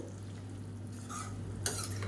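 A spoon stirs egg thokku with fried eggs in a pan, giving soft scraping and sizzling over a low steady hum, with a brief clink near the end and no talking.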